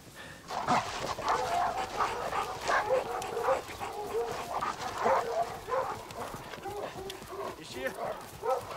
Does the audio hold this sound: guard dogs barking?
yes